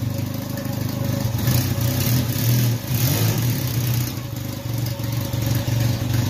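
An old MG Midget's small engine revs steadily and loudly close by, holding a throaty drone with slight dips as the car strains to pull forward after sitting unused for years.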